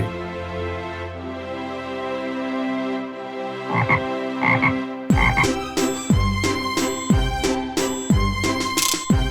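A frog in a cartoon telling of the Frog Prince fairy tale croaks repeatedly in a steady, loud rhythm over background music.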